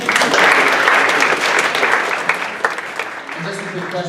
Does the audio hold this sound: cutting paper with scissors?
no